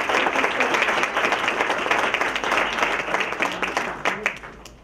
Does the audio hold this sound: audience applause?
yes